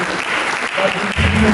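Short burst of church congregation applause during a Christmas service at GBI Harmoni, dense clapping filling the room with some voices mixed in and a brief tonal sound near the end.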